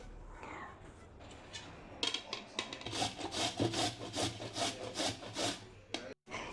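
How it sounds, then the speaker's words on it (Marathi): Carrots are grated by hand, with a quick run of rhythmic, raspy scraping strokes that starts after a quiet pause. The strokes are close and fairly loud, and no one speaks. "मी इथं कांद्याबरोबर गाजर किसून घेत आहे"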